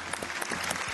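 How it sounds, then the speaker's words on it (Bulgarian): Studio audience on a Bulgarian TV game show applauds steadily and loudly, a dense wash of clapping with no gaps across the whole moment. "Аплодисменти за четвъртият участник в днешния епизод."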